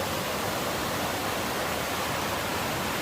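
Rushing rapids below Rough Rock Falls in Spearfish Canyon give a steady, dense broadband roar of flowing water that stays constant and fairly close throughout, with no voices.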